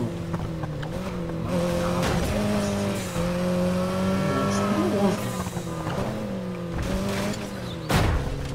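Nissan 370Z in the racing game Need for Speed Heat, its engine droning steadily with rising and falling revs and brief tire squeals, loud and continuous with a voice speaking over it.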